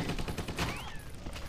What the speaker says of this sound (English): No! Stop shooting me!